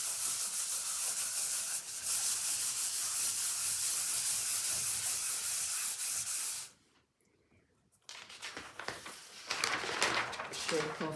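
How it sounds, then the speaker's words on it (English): Material rubbed firmly into fabric for a collage, a continuous close scratchy rubbing that stops for about a second and then resumes in rougher, uneven strokes. "So I'm going to rub that in well to be sure it's covered."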